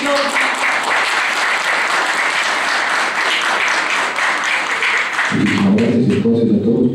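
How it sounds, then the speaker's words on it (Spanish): Audience applause for a doctor at a presentation event in Arequipa: a loud, dense wash of clapping sustains for about five seconds, then gives way to a voice speaking. "un fuerte aplauso por favor para el doctor"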